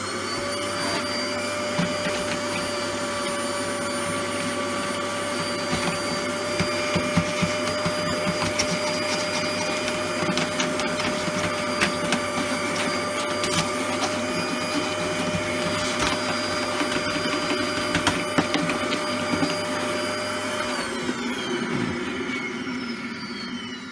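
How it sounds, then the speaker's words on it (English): Household vacuum cleaner drawing dust out of a PS4 Slim cooling fan, a loud continuous motor drone with rattling bursts as debris is sucked through, cutting off near the end. "So I'm going to get a vacuum and I'm just going to quickly clean it up."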